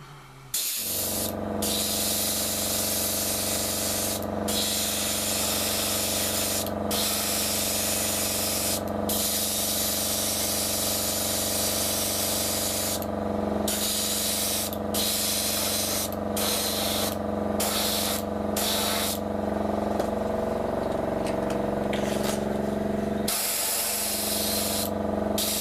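Steady airbrush or spray-can hiss lays a first coat of paint on a Revell 1/48 F-15E Strike Eagle model kit, loud and close, with brief pauses in the spray and no talking.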